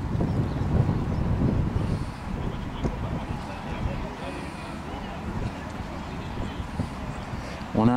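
Steady wind blows across an outdoor model sailboat pond at a club regatta, a continuous low rumble and buffeting against the microphone that stays fairly even throughout.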